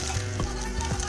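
Cooked rice tossed in sizzling butter with spices, a steady fry hiss under a few soft spoon scrapes spaced through a short stretch, with no voices.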